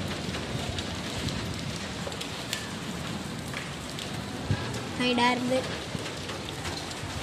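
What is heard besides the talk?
heavy cold rain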